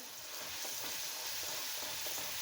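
Bitter gourd curry with garlic chutney is stirred in a hot pan, making a loud, continuous oily sizzle and crackle with faint scraping throughout.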